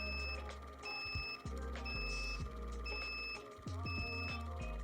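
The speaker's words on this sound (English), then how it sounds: "You can see while the alarm does kick off, it does not shut the pump off." An automatic aquarium water changer's overfill alarm beeps in a steady repeating pattern, a high pulse about once per second, over a constant mechanical hum and rumble from the pump, which keeps running.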